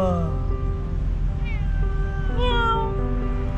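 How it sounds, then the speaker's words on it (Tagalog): A cat meows several times at an outdoor campsite in Agno, Pangasinan, with drawn-out, rising and falling cries over a steady background rumble of wind or surf. "Uy, may pusa."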